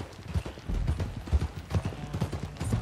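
Horse hooves in Red Dead Redemption 2 clip-clop at a steady trot on a hard surface, close and fairly loud, with a faint snort, no talking.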